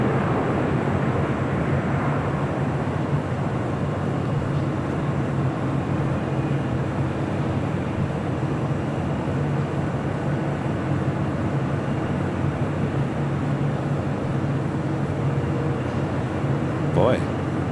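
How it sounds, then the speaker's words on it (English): A FedEx Boeing 767 taxis toward its cargo building on the south side of LAX, heard as a low, even engine drone that hangs steady in the background throughout. "FedEx 767 pulling into the FedEx building there on the south side of LAX."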